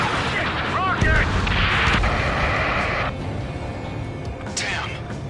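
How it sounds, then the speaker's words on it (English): Rocket explosion in a military video game, a loud booming blast amid dense battle noise of gunfire and rumbling, with whooshing sounds and voices shouting over the din. "Rocket!"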